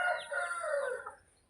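A chicken gives a short, loud, close call, a single crowing or clucking burst that fades out within a second or so, with no talking.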